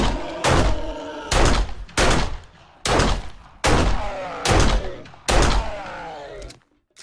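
Pistol shots in the video game 7 Days to Die ring out close and loud, seven heavy booming reports at a steady pace roughly every eight tenths of a second, each trailing into a short echo, then a brief silence.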